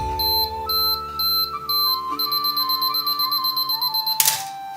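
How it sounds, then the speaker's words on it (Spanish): Canon AE-1 Program self-timer ticking with a steady, rapid mechanical beeping rhythm for several seconds, ending in a single sharp shutter release snap, close and alone with no voices. "Y esto que es un modo de temporizador. La dejamos y al cabo de unos segundos la cámara dispara."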